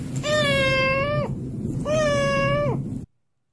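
Two drawn-out meows, each about a second long with a clear tonal wail and a falling tail, separated by a short pause; they could be from a cat or a person imitating one, with a low background murmur underneath.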